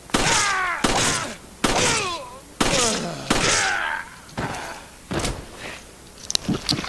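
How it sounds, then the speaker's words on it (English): A Beretta M9T3 pistol fires at a Majini in Resident Evil 5, a series of loud, close shots spaced about a second apart. Each shot is followed by a ringing tail, and talk runs underneath. "Alright, so 7 shots from the Beretta M9T3 to take down a standard Magini in professional mode when it's not upgraded at all."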